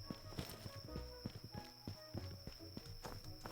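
Horse hooves clip-clop in steady, close, moderately loud beats as a mount moves through the fantasy game Swords n' Magic and Stuff, with a constant high synthetic tone and game ambience underneath.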